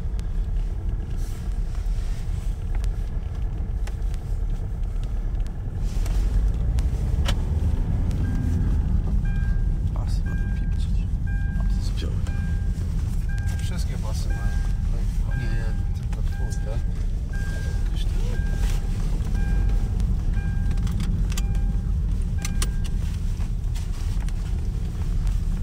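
A 2014 Kia Sportage drives along a road, a steady low engine and road rumble heard from inside the cabin, with people talking over it.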